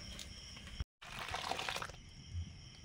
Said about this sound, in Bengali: সামান্য জল দিয়েছি, মাছটা যেহেতু সেদ্ধ হবে।